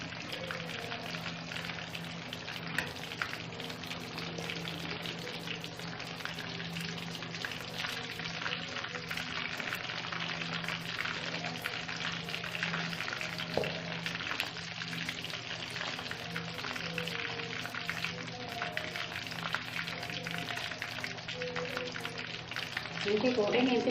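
Coated fish frying in hot oil, a steady dense crackle and hiss continuing unbroken at low level, with a faint voice talking underneath.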